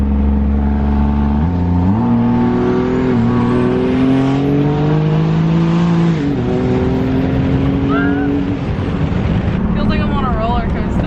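An 800HP Cummins diesel truck accelerates hard, its engine roaring loud and close as the pitch climbs through gear changes, with voices shouting over it near the end.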